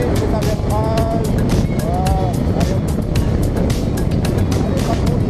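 A motorcycle with a new rider aboard accelerates on the road, its engine pitch rising twice under a steady roar of wind and riding noise.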